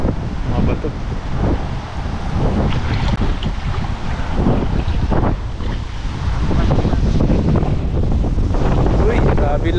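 Strong wind buffets the microphone on a riverbank during grass carp fishing, a loud continuous rumbling roar with gusting surges throughout, while people talk underneath it.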